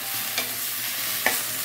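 Lodeh with winged beans and tempeh being stirred in a pan, a soft constant simmering hiss with two brief scrapes of the spoon.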